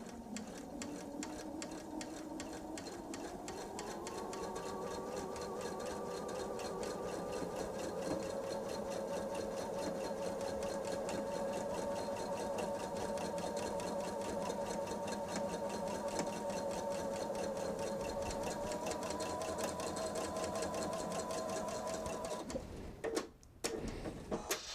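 A sewing machine runs steadily for about twenty-two seconds, stitching a quarter-inch seam on fabric for a bench pillow, then stops with a few brief clicks.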